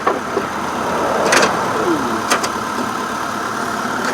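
A 2003 Mitsubishi Lancer ES sedan's 2.0 liter four-cylinder engine idles steadily, a constant broadband hum heard up close under the open hood, with a few faint clicks and no talk.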